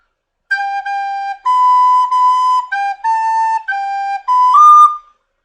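Opening notes of the calypso tune Day-O played on a recorder, a clean, bright melody of seven separate held notes, each with a short gap between them, played alone and close with no talking.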